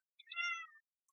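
One short, close cat meow rises and falls in a quiet room, and a faint tick or rustle follows soon after.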